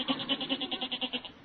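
A goat bleats in a single long, wavering call, its voice pulsing in a quick regular tremolo, close and clear with no talk over it.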